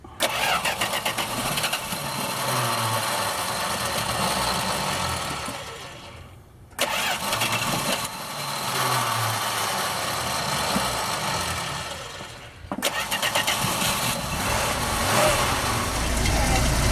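A Mopar drag truck with a 440 engine cranks and fires up, then settles into a lumpy idle; the start sequence repeats across the clip, with brief drops between attempts.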